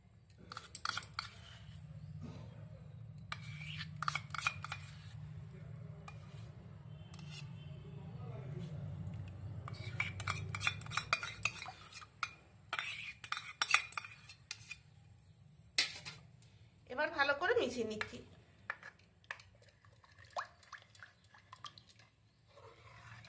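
Spoon stirring curd into milk in a pot for homemade sweet dahi, with scattered clinks and scrapes against the metal over a low hum, plus a brief murmur partway through.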